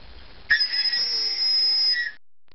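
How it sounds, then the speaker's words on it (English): A loud, shrill whistle blown in one sustained blast of about a second and a half, close by, with no talking. "A whistle."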